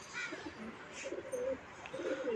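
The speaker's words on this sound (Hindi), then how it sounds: "ये हमारा गिरदान कबूतर है," A pigeon kept at home coos softly in a few low, throaty phrases, close by, over a faint background hiss with no one talking.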